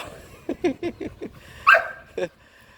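A pit bull bandog dog gives a close run of short, rhythmic barks and yips, then one louder, higher bark and a final lower bark.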